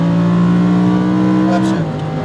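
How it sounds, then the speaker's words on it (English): A Lamborghini Huracan at full throttle on a track, its engine a loud, close, sustained high drone holding steady before the pitch drops slightly near the end, as if at a shift. "add some throttle, open the wheel out to the right, go full throttle"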